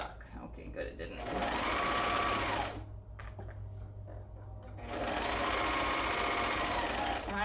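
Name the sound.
serger sewing machine stitching a shirt seam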